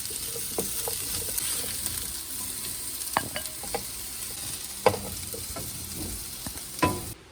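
Chicken pieces browning in a pan for chicken curry sizzle and crackle continuously up close, with several scrapes and clinks of a spatula turning them and no talking.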